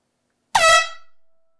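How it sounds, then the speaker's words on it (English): A single loud blast from a handheld air horn, a short blaring tone lasting about a quarter second before trailing off into silence. "This is the loudest air horn I've ever bought."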